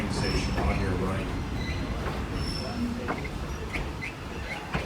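A Downeast Scenic Railroad train rolls along the rails near Ellsworth, with a steady rumble, clacking and faint wheel squeal, a few bird chirps and voices over the running noise.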